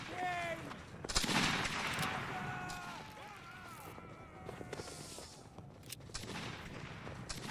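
A musket volley cracks out in Roblox Waterloo's battle between the 95th Rifles and the 33rd Regiment of Foot, a sharp, dense burst of fire. Scattered reports and battlefield noise follow, with voices talking throughout.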